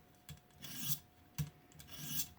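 A Kershaw Shuffle knife blade rasps across a ViperSharp precision sharpening stone in long, even strokes, three close scraping passes with brief gaps between them.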